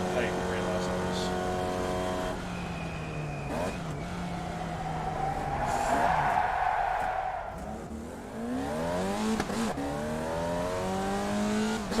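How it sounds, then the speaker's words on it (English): Formula Vee race cars in a racing video game rev and whine through gear changes while tyres squeal in a skid, engine pitch sweeping up and down as someone talks over it. "You're gonna have a little skid, heat the tyres up so you can get it."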